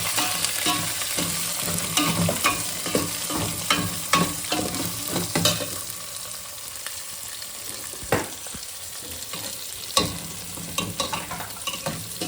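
Onions fry in a pan for a South Indian breakfast, a steady close sizzle punctuated by repeated scraping stirs of a spoon against the pan.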